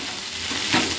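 Lady finger (okra) fries and is stirred in a pan, giving a steady close sizzle with a brief louder scrape of stirring near the end.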